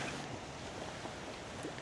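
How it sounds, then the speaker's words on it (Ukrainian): Strong wind buffets the microphone over big waves on a floodplain lake, a continuous loud rushing roar with no pauses and no talking. "дуже великі хвилі."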